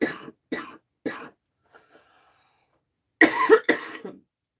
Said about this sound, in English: I'm going to cough, and I'm really sorry.